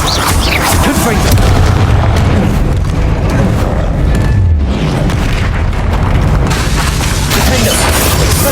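Repeated Confringo fire-curse blasts in Hogwarts Legacy, dense booming bursts layered thickly with combat effects and a character's shouted incantations throughout.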